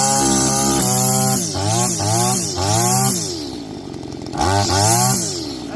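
A Neotec BC260 string trimmer's small two-stroke engine pops into life and revs loudly up and down in repeated bursts close by, its buzzing pitch rising and falling.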